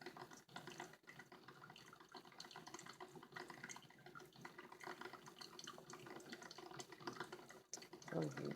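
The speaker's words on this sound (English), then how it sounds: "I don't really know how much water I poured in there" Water pours into a pot for drinking water, a steady splashing stream running for several seconds at moderate level, with a brief louder gurgle near the end.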